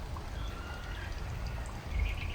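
Water flows from an upper pond down into a lower earth pond on a tilapia farm, a continuous pouring and trickling rush with low rumble, steady and close, with faint birdsong.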